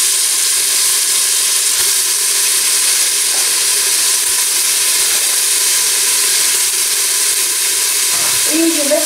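Onions, garlic and herbs fry in a pan over medium heat, giving a loud, steady sizzle with some faint stirring and no speech.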